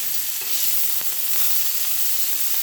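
Slices of steak sizzle hard in a hot pan just after flipping, a dense, even crackle filling the whole stretch with a few faint scrapes and taps, no voices on top.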